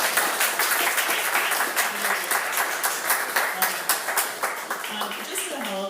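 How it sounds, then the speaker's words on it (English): Sustained audience applause with dense clapping and a few whistles or cheers, fairly loud and continuous throughout, at an event debating marijuana legalization. "All right, another round of applause."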